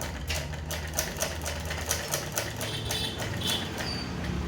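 A sewing machine stitches a shirt lining with a steady rhythmic ticking and a low mechanical hum. It plays close and continuous, with no talk.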